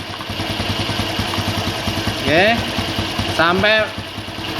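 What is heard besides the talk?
motorcycle engine idling low during carburetor adjustment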